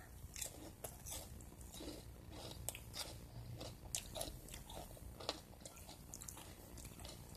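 Someone bites repeatedly into cooled but still crisp breadcrumb-coated fried dory fish, giving close, quiet crunches and chewing in an irregular rhythm with no talking.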